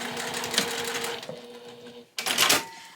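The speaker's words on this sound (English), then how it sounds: "You are going to start sewing directly on that line, back stitch, and then continue following that line until it ends." A sewing machine stitching along a marked line on a seashell saddle bag, a fast steady mechanical whir that pauses briefly, then resumes loudly for a final burst.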